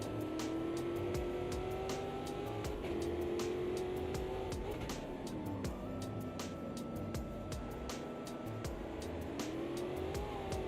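A Formula race car in the Automobilista 2 racing game, its engine holding a steady high whine that rises through gear changes, with faint ticking clicks running throughout at a moderate level.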